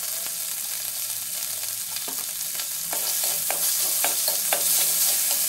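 Chickpeas sizzling steadily in a hot pan with salt while a spatula scrapes and stirs in repeated strokes, the frying hiss growing louder partway through, close and without speech.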